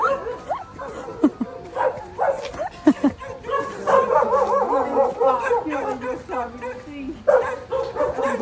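A dog barks, yips and whimpers close by in a lively run of calls, with people talking over and around it.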